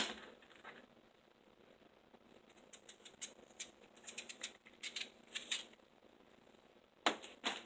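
A knife slices through a watermelon rind with a series of short, crisp cracks and snaps, close and fairly quiet. The cuts come in irregular bursts against a soft, quiet background.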